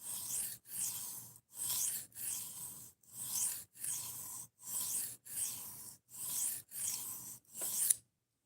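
A large Gerber knife is drawn across a sharpening surface in nine steady, evenly spaced rasping strokes, each a bright scraping hiss separated by short silences, close and fairly quiet.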